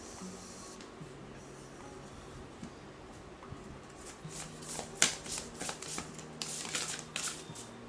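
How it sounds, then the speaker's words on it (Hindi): Oracle cards shuffled for a tarot reading, a soft papery rustle that builds into brisker, louder riffling and flicking toward the end, heard close up over a faint steady background hum, with no voices. "Let's pull N oracle card for you."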